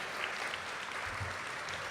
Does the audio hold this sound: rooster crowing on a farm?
no